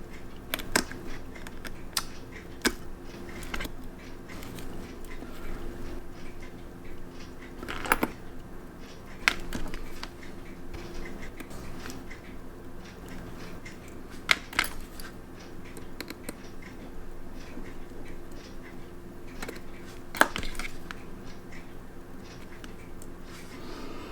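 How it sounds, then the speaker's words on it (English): Tiny screws being backed out of a Seiko VD53B quartz watch movement, heard as sparse, sharp little clicks and taps from a small screwdriver over a quiet background, close up and without talk. "I'm going to disassemble this movement. I need to remove 5 screws."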